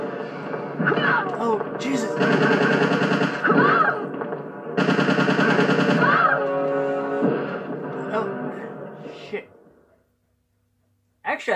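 Automatic weapons fire in the survival horror game Resident Evil 3 Nemesis comes in loud sustained bursts with short pauses between them, up close. A voice speaks alongside, and everything cuts to near silence just before the end.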